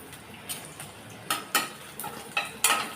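Cashews and raisins stirred in hot ghee in a pan give off light scraping and clinking spoon strokes at an irregular pace over a soft sizzle, fairly close and with no talking.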